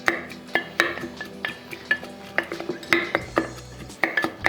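A muddler taps and presses citrus and herbs in a glass for sangria, giving a steady series of light clinks and knocks with a faint grinding undertone.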